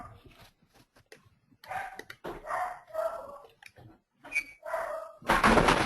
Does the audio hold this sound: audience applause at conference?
no